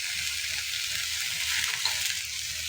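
Garlic cloves fry in a little oil in a pan for red chili chutney, giving a steady, close, continuous sizzle with no voices.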